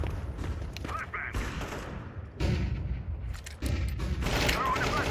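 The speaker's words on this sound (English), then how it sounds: "Throwing the flashbang. Grenade out." Flashbang and grenade blasts in Counter-Strike 2: a dense, continuous wash of gunfire and explosive booms with several sharp bursts, loud and sustained throughout.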